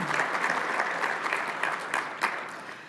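A breakfast crowd claps steadily for Ambassador Andrew Young, a dense, even round of applause that tapers slightly toward the end.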